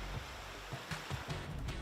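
Ocean waves breaking on a beach at night as a small military team lands from open sea, a steady low wash with a few soft surges rising out of the rumble, moderately distant.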